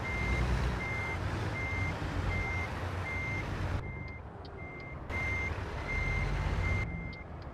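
A big rig backs a trailer in American Truck Simulator, a steady high reversing beep pulsing at an even rhythm over a loud low diesel rumble, with a brief dip and air hiss midway.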